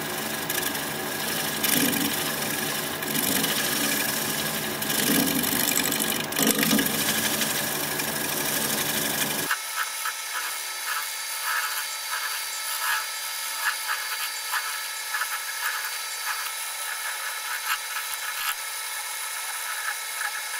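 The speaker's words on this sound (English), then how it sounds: "I want to do a little shear scraping over here." A pear shape being shear-scraped on a wood lathe, a steady whirring hum with a rough scraping texture that drops abruptly to a thinner, quieter spinning tone partway through.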